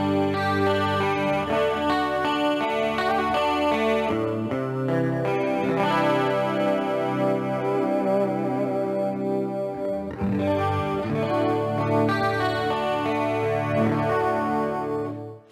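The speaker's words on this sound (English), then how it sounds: "I just absolutely love using that detune because it just makes the guitar sound so much fuller." Electric guitar played clean through a detune effect, sustained chords with a thick, shimmering chorus-like doubling, ringing out in several long strummed phrases with brief gaps between them.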